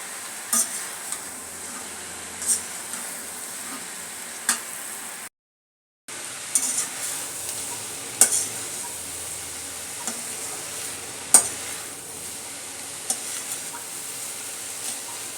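Kalmi greens and scrambled egg are stir-fried in a pan, producing a faint continuous sizzle broken by occasional sharp clicks of a utensil against the pan and one brief gap of silence.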